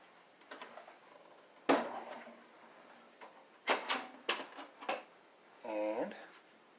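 The plastic front cover of a Gateway 2000 computer case is pried off with several sharp snapping pops and clicks, quiet and close, followed by a brief voice near the end.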